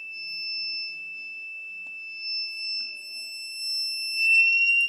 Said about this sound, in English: the LED will glow, the buzzer will beep